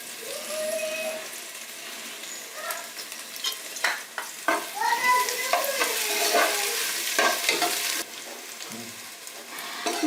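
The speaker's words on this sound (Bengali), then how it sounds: "বাদামি কালার না হওয়া পর্যন্ত পেস্টটাকে আমি নেড়ে চেড়ে ভেজে নেব।" Onion and garlic paste stir-fried in a pan for a goat curry, with a continuous sizzle and the scrape and knock of a spatula stirring the paste.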